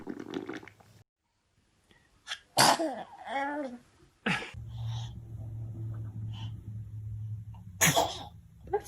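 Several baby sneezes, loud and sharp, spaced apart with a short pause between them, while adults talk softly in the background and a low steady hum runs underneath.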